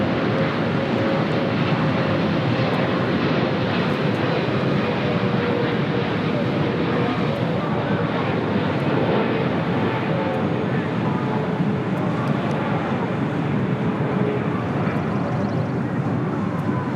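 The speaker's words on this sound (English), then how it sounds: "Iberia, flight 6171, coming in from Madrid, the A350-900, heading to the north side for an arrival on 24 right" An Iberia Airbus A350-900 arrives at LAX for runway 24 right with a continuous, broad jet roar and a faint steady tone, holding level throughout with no voices.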